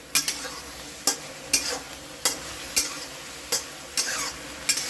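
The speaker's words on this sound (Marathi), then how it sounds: "असं छानपैकी बघा असं हलवून घ्यायचं" Chicken fried rice stirred in an iron wok, a spatula scraping the metal in sharp strokes about every half second to second over a steady close sizzle of frying.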